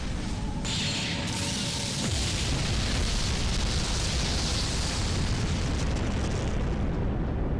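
A huge Rocket Spear explosion from an attack in the game Fate/Grand Order. A sustained roaring blast builds after a brief whoosh and fills the whole clip loudly, with no talk over it.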